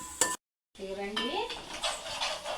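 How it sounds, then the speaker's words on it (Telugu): Ginger paste frying in a pan, stirred with a utensil that scrapes and clinks against the metal over a soft sizzle, broken by a brief silent gap and a short tonal squeak. "అల్లం పేస్ట్ పచ్చి వాసన పోయే వరకు వేయించుకోవాలి"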